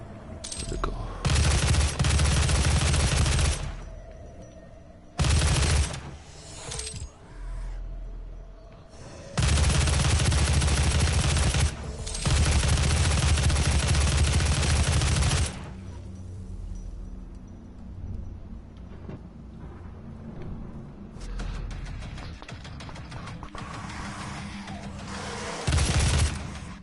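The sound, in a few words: assault rifle gunfire in DOOM video game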